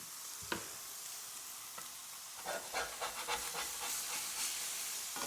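Burger patties sizzle steadily in a hot pan just after flipping, a bright crackling hiss with a few sharp pops, growing busier and louder partway through.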